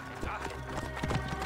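Horse hooves gallop in the video game Assassin's Creed Origins with a fast, steady clip-clop rhythm that sounds close and moderately loud, the pounding growing slightly heavier toward the end.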